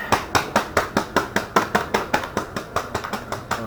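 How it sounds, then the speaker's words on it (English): Steel sheet laid over a pipe on a sand bag is hammered into a curve for a 1941 Dodge army truck cab, with a steady series of about sixteen sharp metallic blows at an even pace, close and moderately loud. "see if I can pound that curve into it"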